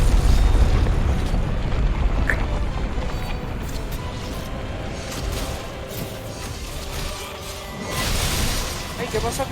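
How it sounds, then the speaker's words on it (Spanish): Explosion in Monster Hunter World: a deep, rumbling boom with crackling debris and a swell of noise near the end, heard under people talking. "Wasabi literalmente está al lado de la explosión"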